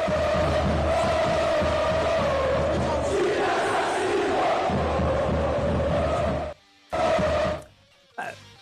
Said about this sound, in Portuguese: Foi uma parte na arquibancada que gritou isso aqui